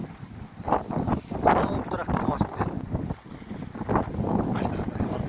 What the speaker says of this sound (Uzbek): shamol kuchli lekin